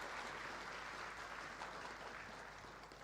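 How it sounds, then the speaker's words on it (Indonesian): Faint, distant applause from a faculty graduation audience, a steady wash of many hands that slowly tapers toward the end. "tepuk tangan untuk mereka semua."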